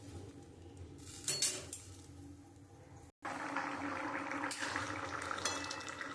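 Water poured into a pan of cooking fish roe curry with pumpkin, a steady splashing hiss after a few clinks of utensils against the pan, close and fairly quiet.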